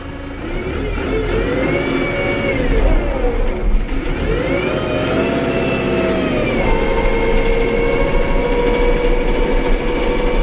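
Hattat 285S tractor engine, uprated with a turbo and a side-mounted exhaust, runs loud and steady with rising and falling revs and a whistling turbo tone over a constant low drone, with no talk.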